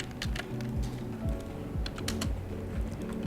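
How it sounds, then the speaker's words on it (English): Rapid typing on a computer keyboard, a close, steady patter of key clicks with occasional heavier strikes, heard alone without voices. "we come to our Photoshop and try to type this text here to here"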